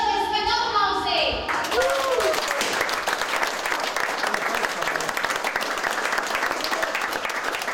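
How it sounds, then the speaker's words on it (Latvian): After a brief spoken call, a roomful of people breaks into loud, sustained applause at a 50th birthday celebration, dense clapping continuing steadily. "Vēlreiz spēj aplausīt!"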